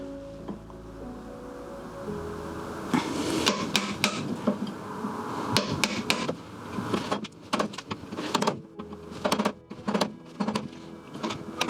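Chisel cutting into wood while forming a dovetail joint, a run of sharp percussive taps and chops with scraping paring strokes, close and distinct against a quiet workshop background.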